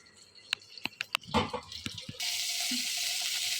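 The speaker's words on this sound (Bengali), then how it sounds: "মুসুরির ডালটা আমার বয়েল করা হয়ে গেছে। আমি এবার এটা ঢেলে নেব।" Boiled red lentils (masoor dal) poured out for a vegetable dal: a few sharp clinks and knocks, then a steady, close, watery rush of pouring.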